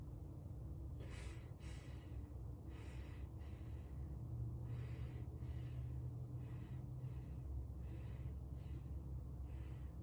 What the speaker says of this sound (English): I want you to inhale and exhale for me